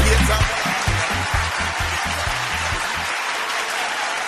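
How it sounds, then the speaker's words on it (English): An audience applauding at an opening event, a loud steady wash of clapping with a low rhythmic thump of music pulsing beneath it for the first few seconds, then the clapping continuing alone. "I love that applause."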